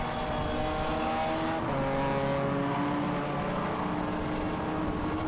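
Team Brits BMW race car coming into the pits at Silverstone during a Britcar endurance race: a steady, droning engine that drops in pitch partway through as it slows, heard close and continuous.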